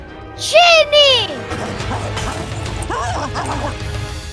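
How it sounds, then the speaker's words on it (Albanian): A dog barks twice in quick succession, loud and close, followed by yelps and whimpers, while a voice speaks over the background. "Qeni!"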